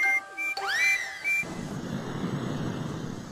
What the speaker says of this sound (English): all we have to do is smile and blow whistles at everyone